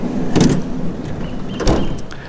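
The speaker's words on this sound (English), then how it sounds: "if I open the door here" A campervan door on a New Zealand road-trip van opens with two distinct mechanical clunks, one early and one later, followed by a rattling slide, all close and fairly loud.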